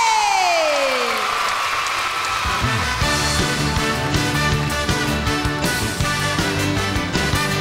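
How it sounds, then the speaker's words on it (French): Arena audience at a 1988 concert at the Zénith applauding loudly and steadily for the orchestra, with sustained clapping and cheering while the band starts playing underneath. "j'aimerais que vous applaudissiez très très fort le grand orchestre qui me fait l'honneur de m'accompagner ce soir"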